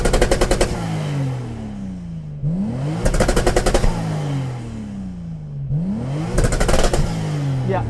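Toyota Supra TRD, a limited-run 80-series Supra, revved hard while standing still: three sharp climbs to a rattling limiter, each dropping away to a falling exhaust drone before the next blip.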